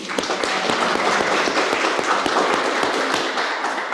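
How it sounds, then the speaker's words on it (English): At a Rotary club meeting, an audience applauds the volunteers with a full, continuous round of clapping from many people, sharp individual claps standing out within the dense, close sound. "Let's give them a round of applause, please."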